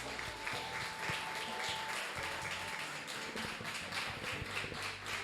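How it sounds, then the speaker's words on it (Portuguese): A church congregation claps in praise, a continuous even patter of many hands at moderate distance, with a faint sustained tone running beneath it for the first couple of seconds. "As palmas engrandecem o nome de Jesus"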